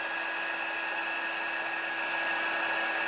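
A heat gun melts embossing powder on paper with a steady, close whirring blow and a high whine that holds level the whole time.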